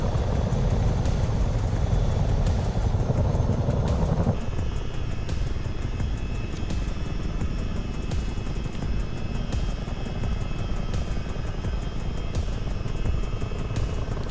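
A steady, loud rotor and engine drone from a Chinook helicopter in Microsoft Flight Simulator 2020 runs throughout, with a heavier low rumble easing after the first few seconds and faint repeated clicks above.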